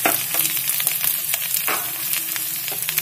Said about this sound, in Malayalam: ഇനി ഇതെല്ലാം ഈ പാനിലേക്ക് ഇട്ട് കൊടുക്കാം. ഇത് ബ്രൗൺ കളർ ആവുന്നവരെ വഴറ്റിയെടുക്കണം